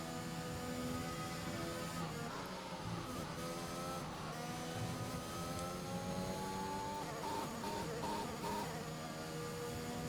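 Formula 1 race car engines in F1 2021 scream at high revs at the start of the season-opening race in Australia, a dense, continuous buzzing whine with shifting pitch from several cars.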